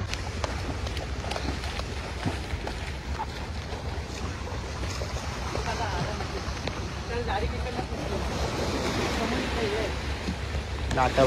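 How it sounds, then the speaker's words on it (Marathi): Sea waves at the Gateway of India in Mumbai after rain, a continuous rushing wash of surf with wind buffeting the microphone, with a boat's low rumble in the background. "लाटा बघा कशा आहेत बघा"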